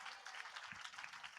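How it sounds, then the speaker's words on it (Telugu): Applause during a church sermon at a gospel meeting in Amalapuram, a steady wash of many hands clapping, fairly faint and continuous throughout. "చప్పట్లు కొడుతూ స్తోత్రాలు చెప్దాం"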